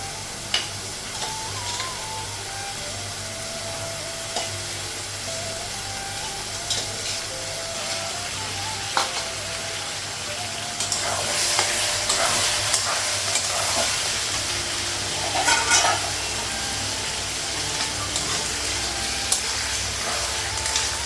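Potatoes and onions fry with spices in a pan for a duck curry, giving a continuous sizzle with occasional stirring and scraping, loud and close.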